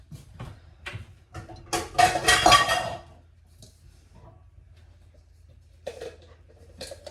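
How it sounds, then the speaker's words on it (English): Kitchen clinks as a bowl is taken out and fresh eggs are cracked, a cluster of glassy knocks and clatter in the middle, then sparse faint taps in a quiet room. "I'm going to get a bowl out and start breaking some eggs for the girls."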